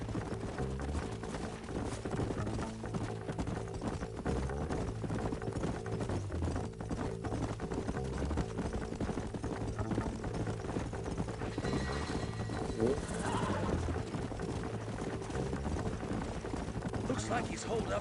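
Horses clip-clop at a steady walking rhythm in the Western video game Red Dead Redemption, a continuous moderate patter of hooves under background music with occasional speech.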